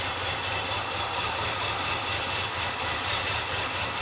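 Terry the trailer truck's engine idles in a steady, close, continuous low rumble with a broad hiss on top, an engine thought to need a tune-up, with no talking.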